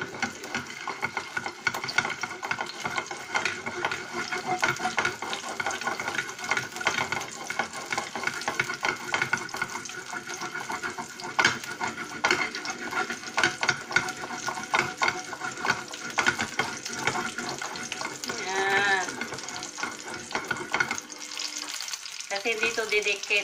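Homemade spicy pork skinless longganisa sizzles and fries steadily in a pan, a loud continuous crackle with occasional stirring, briefly dropping in the low end near the end.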